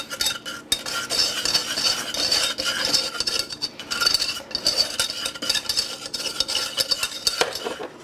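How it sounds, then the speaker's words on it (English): Whisking ingredients together in a bowl for protein jello: rapid metal-on-bowl scraping and clinking in uneven bursts, close up and fairly loud, with brief pauses and no voices. "Okay, now we'll just whisk that"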